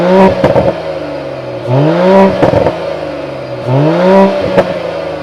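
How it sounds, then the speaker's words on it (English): Revving exhaust of a Mercedes-AMG GLE 53 Coupe, a 2024 facelift model, rising in three sharp throttle blips that swell and drop back to a steady idle, loud and close with no talk. "now let's listen to the exhaust sound of the GLE 53 Coupe"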